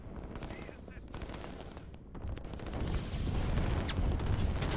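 Artillery and small-arms fire rumble through a war strategy game battle, with distant booms and rattling gunfire building from moderate to louder, denser barrages.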